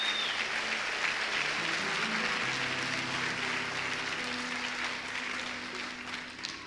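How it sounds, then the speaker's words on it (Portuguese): A church congregation applauds during a sermon at Lagoinha Niterói, producing a broad, sustained wash of clapping from a large crowd that holds steady and then eases slightly toward the end. "pode aplaudir, meu irmão"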